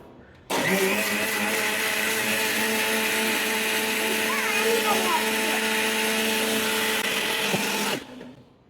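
A mixer grinder whirs loudly and steadily for several seconds, starting abruptly and cutting off near the end, with a constant motor hum.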